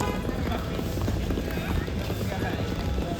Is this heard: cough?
no